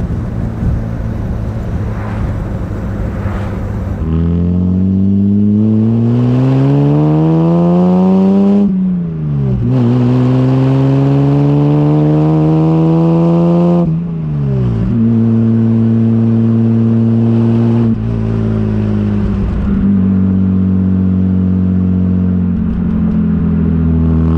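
A Jaguar SS 100 recreation built in 1959 drives hard from inside the cabin, its engine rising steadily through several gears with clear shifts between each climbing pull, loud and close throughout with no talk.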